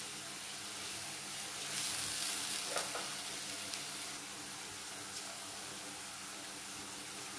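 Spice paste frying in a pan for a ripe pointed gourd chutney, with a little water just added, gives a steady close sizzle and hiss with a few faint stirring clicks and no talking.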